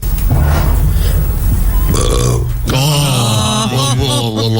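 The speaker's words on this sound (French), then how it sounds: "Excusez-moi, j'ai roté." A presenter on a Belgian TV news broadcast lets out a long, loud, croaking burp close to the microphone, followed by a second drawn-out belch with a voiced, gurgling tone.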